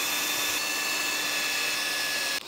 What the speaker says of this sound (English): Okay, finished drilling,